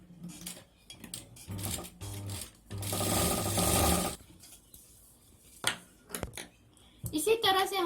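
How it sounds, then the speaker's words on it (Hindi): Domestic sewing machine stitching along a folded fabric edge above an attached elastic, with bursts of fast mechanical running between pauses, and a voice talking intermittently around the stitching. "अब हमें नीचे इतना फोल्ड करके इसके ऊपर हमें स्टिच करनी है।"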